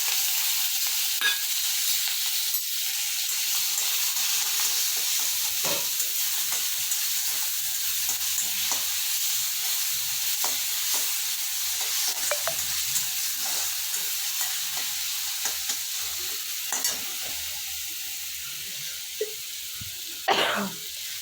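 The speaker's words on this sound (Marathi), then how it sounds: "आता टाकणार आहे कढीपत्ता, टोमॅटो आणि अद्रक लसूण मिरचीची पेस्ट." Hing, mustard seeds, cumin, curry leaves and tomato with ginger-garlic-chili paste frying in hot oil, a steady close sizzle with occasional stirring clatter and a few sharper pops, no talking.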